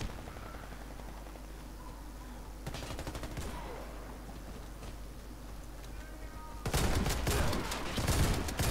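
Gunfire from a shooting video game, with sustained dense bursts through the clip that grow louder and heavier near the end, heard alone without talk.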